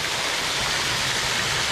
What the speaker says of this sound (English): I've come down here to the smaller waterfall.